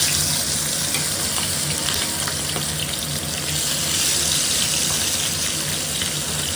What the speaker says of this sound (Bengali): এবার পমফ্রেট মাছটা একটা একটা করে তেলের মধ্যে দিয়ে দেবো।